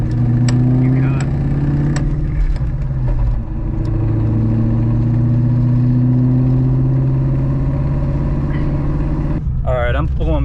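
Ford Mustang with a broken transmission and no second gear, its engine droning loud and steady with a mid-clip dip and swell in pitch, then tailing into other noise near the end; a voice talks over it at times.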